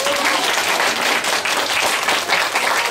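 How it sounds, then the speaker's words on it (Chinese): An audience at a science outreach event applauds loudly and continuously, many hands clapping together in a steady roar that holds for the whole stretch. "掌声不够热烈"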